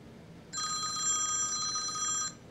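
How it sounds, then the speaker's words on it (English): A telephone rings with a bright, steady electronic trill that lasts nearly two seconds and then stops, clear and fairly close against a quiet room tone. "Sorry, my phone was ringing."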